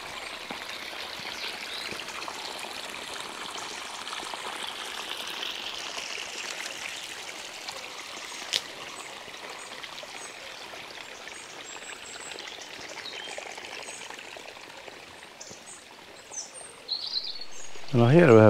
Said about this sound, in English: Now here we have the water running around from a different location, from 2 places